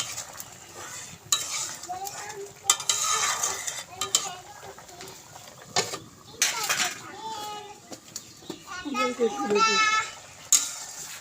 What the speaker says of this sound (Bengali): ঢেকে রেখে দিই একটু নাড়া নিই